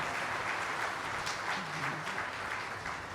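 An audience claps steadily throughout at a Shri Ram Katha religious discourse, an even, sustained patter of many hands with no voice over it.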